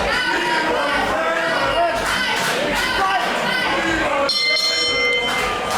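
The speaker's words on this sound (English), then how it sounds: "The bell rings." A ring bell sounds at the start of a professional wrestling world title match, its ringing tones rising above a loud, continuous crowd roar in the arena.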